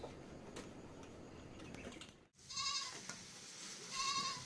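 Goats bleat outside in rural Ramechhap, Nepal, with two short, faint, wavering calls heard from a distance over a steady background murmur.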